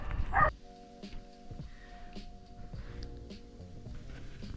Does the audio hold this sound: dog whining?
yes